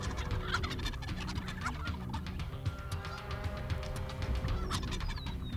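Wild turkeys gobbling and clucking at very close range during a turkey hunt, with repeated calls overlapping across a steady outdoor background, no talking.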